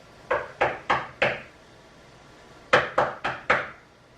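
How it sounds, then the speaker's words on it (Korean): Knuckles rap on a wooden door in two sharp bursts of four evenly spaced knocks, with a short pause between the sets, clear and close in a quiet room. "문을 두드립니다."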